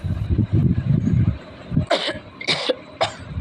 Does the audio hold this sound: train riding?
no